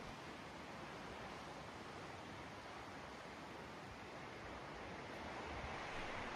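Ocean waves wash against the shore in a faint, steady, broadband rush with no distinct breaks, heard from a distance.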